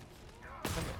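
Automatic sentry gun in a co-op shooter game opens fire partway through, a sudden dense burst of rapid shots that stays loud to the end after a quieter stretch of game noise.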